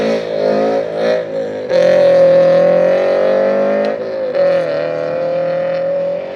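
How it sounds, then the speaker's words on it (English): A drift car, a Ford Ranger or Dodge Challenger, circling an oval track: a loud, sustained engine drone with shifting revs and several sharp surges as the throttle is blipped, heard close and alone. "they're drifting around it, around the oval track"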